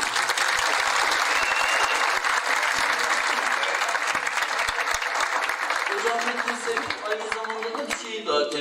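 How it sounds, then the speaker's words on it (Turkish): An audience at a commemorative evening for Hoca Ahmet Yesevi gives the teachers sustained, loud applause, thick continuous clapping throughout, with a voice briefly breaking in near the end. "Onlara da bir alkış edeceğim."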